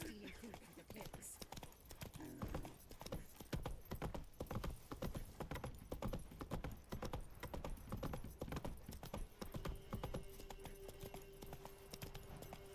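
Hoofbeats of a horse galloping in The Witcher 3: Wild Hunt, a steady rapid clip-clop running throughout over game music and ambience, with voices talking at times.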